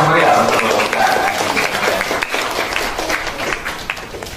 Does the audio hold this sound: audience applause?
yes